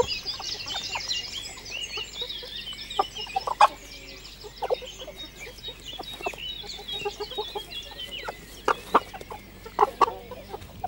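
A Bresse capon rooster clucks repeatedly while pecking in a meadow, giving a steady run of close, busy clucks with a few louder sharp calls, alone without talk.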